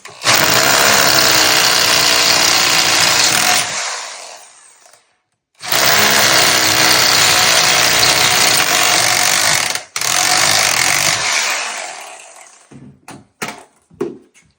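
A power drill bores 1/2 inch holes into a concrete block wall, loud and close, running in long sustained bursts with short pauses and a final few brief blips as it stops.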